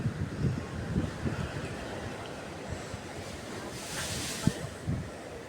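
Coastal wind near Luksuhon Cave in Siargao buffets the microphone in uneven gusts over a constant wash of surf.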